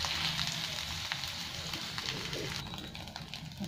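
Cashews and green chillies fry in leftover paneer oil during a Bengali matar paneer recipe, giving a steady, close, moderately loud sizzle that continues unbroken for a few seconds with no talking.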